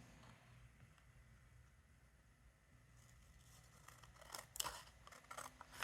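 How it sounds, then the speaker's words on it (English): Scissors trim excess paper from a glued scrapbook journal page: quiet, crisp snips and crinkles come in the second half over a low, steady background. "I'm going to cut the excess off again."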